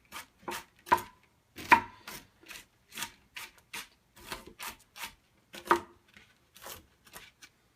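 Knife chopping food into small, even pieces on a board, a steady run of close, crisp cuts and taps with short pauses and no talking.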